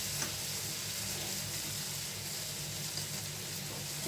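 Chicken cooking in a pan as cream is poured in, giving a steady, even sizzle and bubbling hiss throughout with a few faint stirring clicks and no talking.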